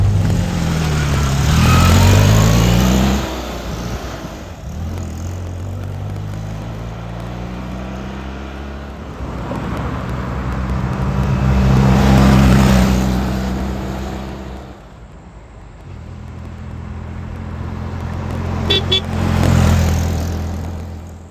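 A Fiat 500 Jolly makes repeated flybys, its small engine buzzing louder as it approaches and passes close, then fading away, several times in a row with no talking.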